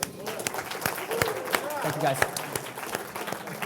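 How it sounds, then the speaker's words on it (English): A live crowd claps in a loose, uneven burst, some hands sharp and near and others farther off. A person speaks over the clapping. "Give a round of applause for all these guys."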